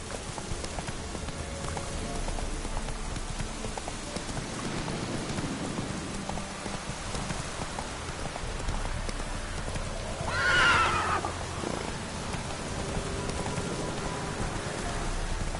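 The horse Roach from The Witcher 3 video game clip-clops along over steady rain, then gives one clear neigh midway, close and fairly loud, with no talking.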